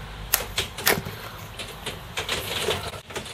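Side cutters snip component legs during an Amiga A500 keyboard repair, giving several sharp, close clicks spaced irregularly over a few seconds against quiet workbench noise.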